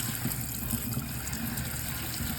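Water running steadily to rinse out a shell foot, a continuous close gush and trickle with no other sounds.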